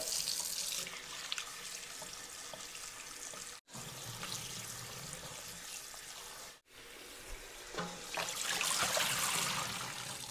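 Tap water runs steadily into a kitchen sink while food for a street-style chive and pig blood dish is rinsed, a close, continuous splashing stream with two brief breaks.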